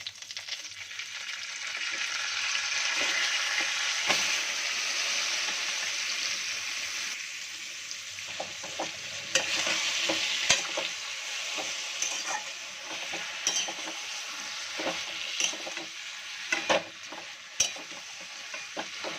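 Taro greens stir-fried in a pan over medium-high heat for a Bengali dish with hilsa fish head, giving a steady broadband sizzle with irregular scraping stir clicks, close and alone without talk.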